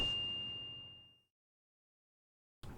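A single bright notification bell dings once, rings out with a clear tone and fades over about a second, followed by silence and then a short burst of other sound.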